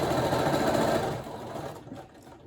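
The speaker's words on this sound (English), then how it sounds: "now I'm going to sew from here, and I'm going to basically sew that segment" A sewing machine stitches fabric and elastic for a running skirt, a steady close whir that drops away partway through and fades to quieter mechanical ticking.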